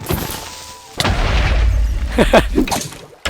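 Explosions in a zombie video game, with a sudden loud boom that rumbles on in a deep roar, while an excited voice talks over it.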